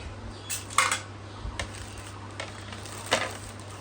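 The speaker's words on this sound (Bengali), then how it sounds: "আরও একটা প্লেট নিয়ে নিচ্ছি" Ceramic plates from a shopping haul being picked up and set down, giving a few light clinks and taps spread over a few seconds against a low steady hum.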